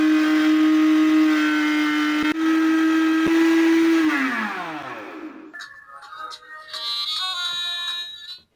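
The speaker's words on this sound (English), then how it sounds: "keep blending until it's smooth" A blender whirs steadily while blending a hair mask of avocado or banana with a little water until smooth, then winds down and stops about four seconds in, after which faint clinks and brief talk follow.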